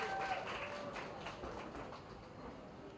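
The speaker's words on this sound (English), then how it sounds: "receive them with a thunderous applause." An audience at a book launch for a fitness book, Sculpt and Shape, claps in a fairly faint, even wash of applause that gradually softens, with no speech over it.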